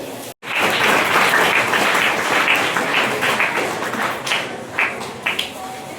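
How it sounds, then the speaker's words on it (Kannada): Sustained audience applause at a felicitation ceremony at a school event, a dense steady wash of clapping hands filling the space after a brief gap at the start, thinning slightly toward the end with a few sharper claps. "ಚಪ್ಪಾಳೆಯನ್ನ ಪಡೆಯಬೇಕೆಂದು ಕೇಳ್ಕೊಳ್ತಾ ಇದ್ದೀನಿ."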